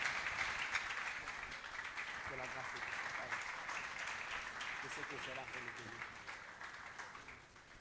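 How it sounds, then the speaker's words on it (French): A church congregation applauding for a man at the pulpit during a worship service, a sustained, moderately distant patter of clapping with crowd voices and talk mixed in underneath. "Est-ce qu'on peut acclamer pour notre frère?"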